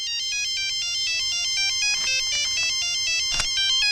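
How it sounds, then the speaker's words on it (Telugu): A mobile phone ringtone plays a repeating electronic melody of high tones, loud and close, with a few brief clicks and scrapes under it and no talk. "నీ దగ్గర సెల్ ఫోన్ ఉందా? ఏ ఫోన్ వస్తుందా?"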